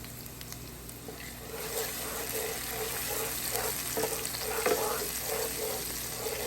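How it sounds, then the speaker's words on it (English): Green seasoning fries in a quarter cup of hot oil, a soft, steady sizzle with faint stirring scrapes and small pops, moderately quiet and close, without speech. "the first thing I'm going to do is fry some green seasoning"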